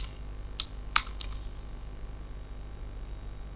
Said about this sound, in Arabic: نكتب احمد في الخانة الاولانية وسامي في الخانة التانية